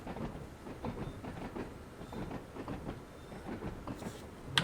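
A former London Underground tube stock train runs on the Isle of Wight line in Train Sim World 5, its wheels clattering rhythmically in a steady low rumble with no talk.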